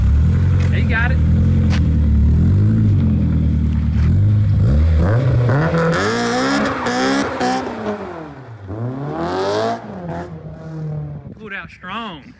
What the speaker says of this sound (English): It'll do a burnout.